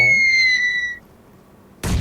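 A grenade blast in the mobile game PUBG Mobile on the Livik map: a sudden, loud, broad explosion bursts in near the end, after a few high electronic tones and a short lull.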